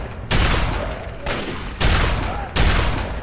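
Shotgun blasts in a first-person video game, three loud booming shots spaced roughly a second apart, each with a sharp onset and a decaying rumble, close and dominant.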